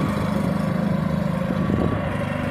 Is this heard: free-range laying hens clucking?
no